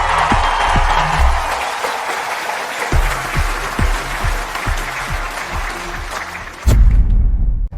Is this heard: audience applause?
yes